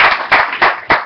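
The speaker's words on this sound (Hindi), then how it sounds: "ताली बजा कर उनको" Audience clapping in a temple during a birthday celebration: four short loud bursts of applause, each quickly fading, close by.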